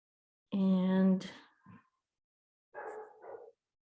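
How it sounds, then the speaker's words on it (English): An indoor dog gives a drawn-out, tonal bark or yelp, followed shortly by a shorter, softer second bark, heard alone without talk at moderate volume. "can you hear my dog barking?"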